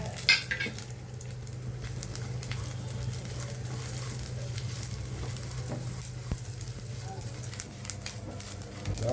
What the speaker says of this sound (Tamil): உளுத்தம்பருப்பு கடலைப்பருப்பு அதையும் சேர்த்து அதையும் கொஞ்சம் வறுத்துக்கலாம்.